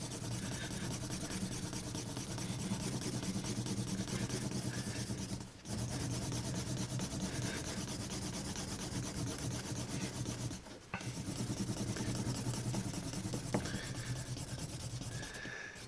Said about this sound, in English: I'll take my slicking tool and I'll start on one of the grooves and just start rubbing.